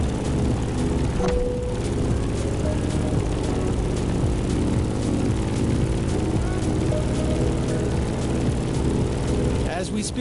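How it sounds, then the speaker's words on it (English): Grumman F8F Bearcat propeller fighter flying in The Crew Motorfest racing game, a loud steady engine drone with dense low harmonics that stays constant throughout, under game music or narration. "In the cockpit of a stunning Grumman F-8F Bearcat, or simply the Bear."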